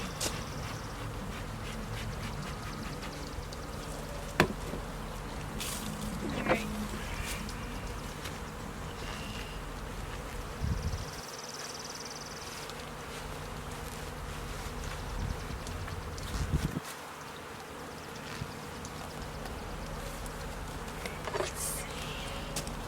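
Honey bees buzz around an open hive during a spring inspection, a steady close hum of many wings that continues throughout with brief louder passes near the ear and occasional faint handling noises.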